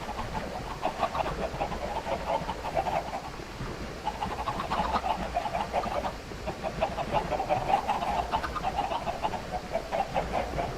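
Chickens in the Minecraft video game cluck repeatedly through a farm path, with steady overlapping bursts of clucking at moderate level and no talking.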